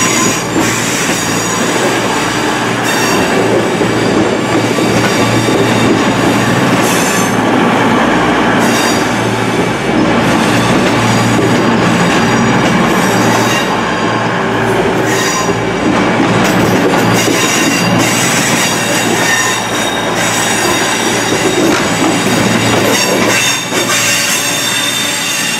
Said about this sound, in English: There goes the 1836 ARRIVA Trains Wales Service.